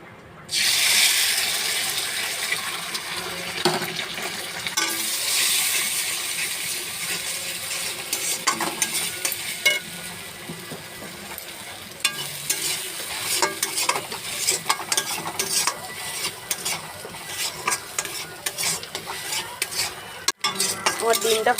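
Two eggs hit a hot pan and burst into loud sizzling that settles into a steady frying hiss, with scattered spatula taps and scrapes and no voices.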